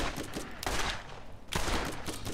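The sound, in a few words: gunfire in the video game Borderlands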